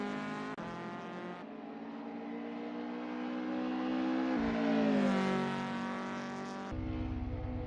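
Volkswagen Golf Mk1 race cars on the final lap of a sim racing cup, engines droning steadily with sharp gear-change dips and a rising rev surge near the end, no talk.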